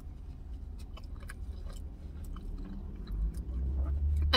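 Someone chewing a bite of al pastor burrito filled with marinated spicy pork and beans, soft close-up mouth sounds with faint crunches over low background rumble, no talk.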